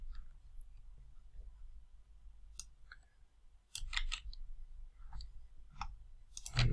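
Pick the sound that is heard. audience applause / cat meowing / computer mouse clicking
computer mouse clicking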